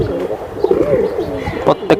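Pigeons of the Silver Beji, pankhi and Hammer breeds coo nearby in a loud run of throaty, warbling calls, with a couple of sharper flutters or knocks toward the end and faint voices behind.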